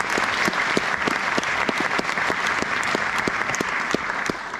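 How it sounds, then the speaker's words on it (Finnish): Ringing applause from a gala audience, brisk and steady clapping from many hands with distinct sharp claps popping out near and loud, sustained throughout. "annetaanpa tässä vaiheessa jo raikuvat aplodit Antti Mero juniori"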